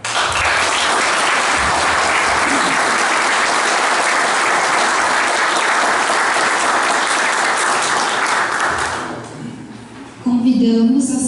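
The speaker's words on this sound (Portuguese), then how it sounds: "sugerir uma grande salva de palmas a todas essas pessoas que fizeram e fazem história junto com a Sociedade de Amigos de Brusque" Audience at a film launch event in Brusque breaks into loud sustained applause, a dense clapping roar lasting about nine seconds before dying away, followed by a voice speaking.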